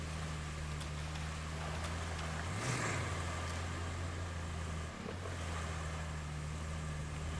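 A vehicle in the RoadCraft video game fords through water with a steady engine drone and continuous rushing, sloshing wash, one brief surge partway through; no speech.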